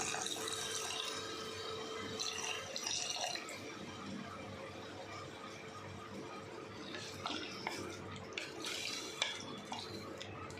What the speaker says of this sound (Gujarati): હવે આપણે તેમાં 1 કપ પાણી ઉમેરી દઈશું